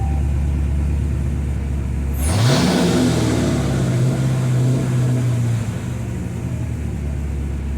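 Hellcat 5.7L car engine revs up sharply, then the RPMs hang high before slowly falling back to a rough idle, heard close and loud with no talking.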